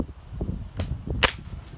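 A pellet gun fires during an iguana hunt outdoors in Puerto Rico, giving a couple of sharp, brief cracks, the loudest near the end, over a low rumbling background with no talk.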